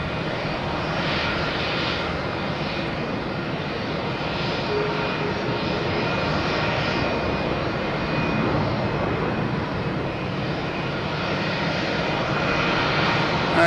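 Southwest airliner jet engines roaring steadily as the plane arrives at Boston Logan Airport, a loud, continuous broadband rumble with a faint whine that holds level throughout, no voices.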